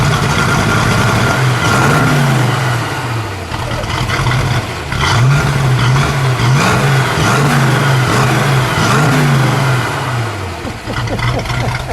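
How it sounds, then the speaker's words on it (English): A 1964½ Ford Mustang convertible's K-code 289 Hi-Po V8 is revved several times in a row, each blip swelling and falling back to a loud, close, rumbling idle. "Dennis, go ahead, give it a rev."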